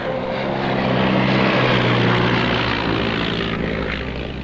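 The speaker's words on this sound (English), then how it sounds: "aeroplane" An aeroplane passes overhead, a steady loud broadband engine roar with a low droning hum that swells and holds through the whole stretch, no voices over it.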